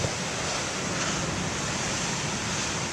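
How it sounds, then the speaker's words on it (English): Big ocean waves crash under a stormy sky, making a continuous loud, broadband roar of surf with no breaks and no voices. "But here you get big waves"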